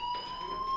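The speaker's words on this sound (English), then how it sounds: "do you hear that fire alarm? That means you should be outside." A fire alarm in the Life Is Strange video game sounds a steady, piercing electronic tone, loud and unbroken through a brief moment with no talking.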